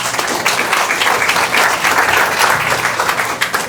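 Audience applause at a French comedy show, a dense steady burst of clapping from a crowd that holds loud throughout with a few scattered voices.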